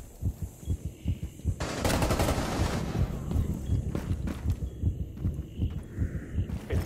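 An adrenaline implant activates in Rainbow Six Siege with a heavy, rhythmic heartbeat thumping steadily throughout, close and loud. A hissing, roaring burst runs over the beats in the middle.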